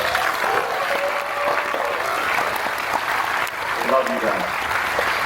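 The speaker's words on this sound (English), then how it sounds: "we're going to give them a huge round of applause." A theatre audience aboard the Celebrity Beyond cruise ship gives the crew a big round of applause at a magic and escape show, with dense, steady clapping throughout and someone talking over it.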